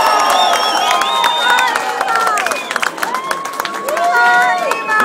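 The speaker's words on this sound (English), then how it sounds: "Come on, give him a nice round of applause" A crowd at an oyster opening competition in Galway cheers, whistles and claps for a competitor, a lively, dense mix of shouts and applause with voices talking throughout.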